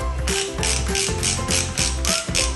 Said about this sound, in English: There's an audible click, which is really useful when you're fixing because you know that it's starting to work.